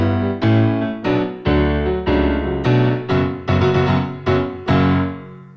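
Piano plays an opening fanfare from Synthesia-style tutorial material: a series of loud, sustained chords struck about once a second, each ringing and decaying before the next, with no voices.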